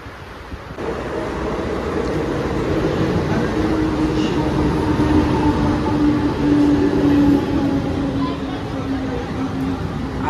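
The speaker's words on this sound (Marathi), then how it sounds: "आली ट्रेन, तर आता बसतो ट्रेनमध्ये आम्ही आणि भेटतो तुम्हाला।" A commuter train pulls into Khandeshwar railway station with a steady, loud rumble and rising brake squeal lasting several seconds, set against station background noise.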